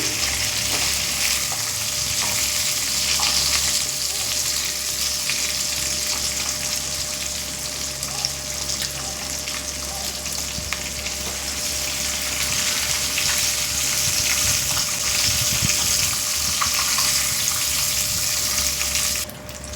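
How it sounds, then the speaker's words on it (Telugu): Fish frying in a pan for a homemade fish curry: a loud, continuous hiss and crackle of hot oil that stays steady throughout, close up, with no voices. "ఫిషెస్ అని ఫ్రై చేసేసానండి."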